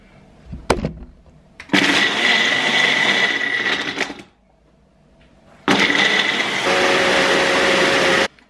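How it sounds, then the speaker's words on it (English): A kitchen blender mixes protein ice cream ingredients with a little liquid, whirring loudly in two long bursts separated by a pause, after a short clunk as the lid goes on. "Put the lid on and then we go in the blender"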